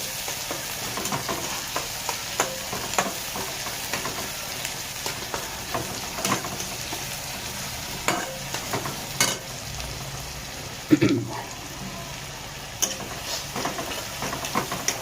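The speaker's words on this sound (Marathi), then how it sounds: "हे बघा कांदा थोडं शेकत चालला आता थोडं लाल होत चालले कांदा" Onion frying in a pan while it browns for a Maharashtrian masala, a dense continuous sizzle with scattered scrapes and clinks from stirring and one louder knock near the end.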